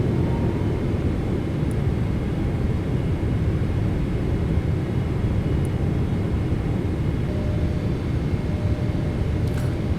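Steady low jet engine rumble and airflow fill the cabin of an airliner on landing approach into Sydney in Microsoft Flight Simulator 2020, with a few faint clicks but no distinct gear clunk.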